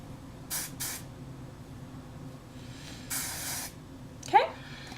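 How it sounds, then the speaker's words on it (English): Several short hissing spray bursts from a hairspray can onto hair, two quick ones then a longer one, fairly close, with faint background noise between. "I'm going to spray all this middle hair that I haven't curled"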